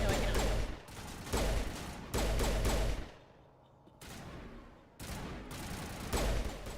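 Gunfire in Mass Effect Legendary Edition played on PS5: several rapid bursts of shots with short gaps and a brief quieter lull in the middle, loud and close.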